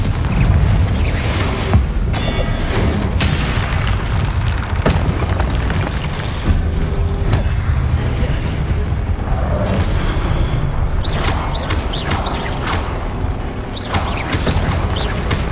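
The Confringo spell in Hogwarts Legacy on PC sets off a continuous barrage of loud, booming fiery explosions with rumbling blasts and crackling debris, dense and unbroken throughout.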